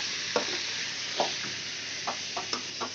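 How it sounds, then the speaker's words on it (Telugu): Ground masala being fried and stirred in a pan for chicken curry, a steady broadband sizzle with several clear scraping stirs spaced irregularly through it, close and moderately loud with no talk. "దంచి పెట్టుకున్న మసాలాని మనం ఇలా వేసుకోవాలన్నమాట"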